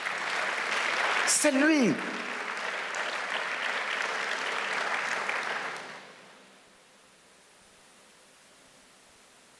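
Church congregation applauding, a dense roar of many hands clapping at once that holds steady for several seconds before dying away, with a brief voice and a whistle-like sweep near the start.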